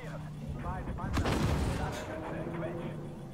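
Artillery fire from behind in the tank game Armored Warfare: a loud, booming blast swells around the middle over ongoing battle rumble, with voices faintly underneath.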